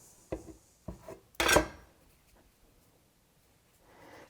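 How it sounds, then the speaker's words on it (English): A metal bench scraper drags across a board while making potato gnocchi, with a few short scrapes and knocks followed by one louder rasping sweep, then quiet. "I'm going to switch to a metal one."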